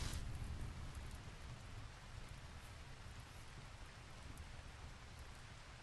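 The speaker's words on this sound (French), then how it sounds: "parce qu'il pleut maintenant" Steady rain in the video game RimWorld pours down as a continuous, even hiss with a low rumbling undertone, no voices present.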